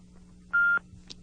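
A single telephone keypad tone, pressing 1 on an answering-machine menu to send a numeric page, sounds as one short clear beep lasting about a quarter second over a faint line hum, followed by a soft click.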